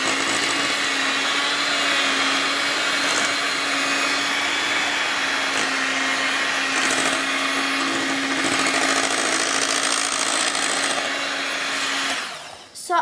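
Electric hand mixer creaming brownie cake batter, a loud steady motor whir that runs unbroken for most of the time, then cuts out near the end.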